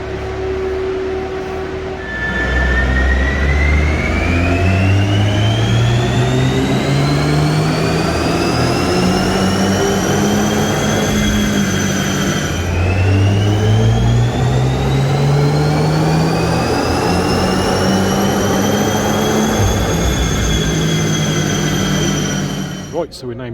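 A VW Golf R engine revs hard on dyno rollers, climbing in pitch through a gear, dropping, then climbing again. It stays loud and continuous throughout, with a steady whir underneath.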